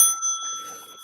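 A bright bicycle-style bell rings once, sharp and clear at the start, then its ring fades quickly into quiet.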